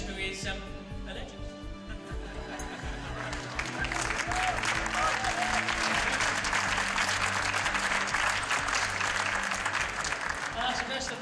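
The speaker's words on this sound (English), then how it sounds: "That's the best applause I've ever had in England" Steady audience applause in a hall in England fills the whole stretch, swelling after a few seconds into dense, sustained clapping.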